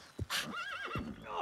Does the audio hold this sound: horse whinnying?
yes